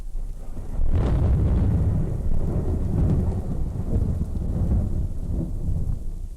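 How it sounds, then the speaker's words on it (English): A thunderstorm effect from a dramatized stage reading: a heavy rumble of thunder breaks early and rolls on under steady rain and wind noise, loud and close, with no voices. "no man has beheld so black, bitter, blinding, and sudden a storm"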